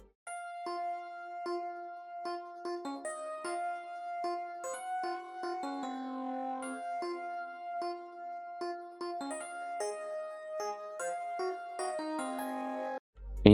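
Synth keys from the Trident plugin play a sustained melodic chord pattern with steady held tones and shifting notes, clear and alone for about thirteen seconds, ending in a sudden low thump.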